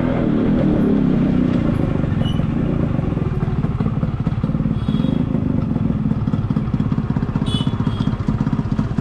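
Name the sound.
Yamaha RX motorcycle engine running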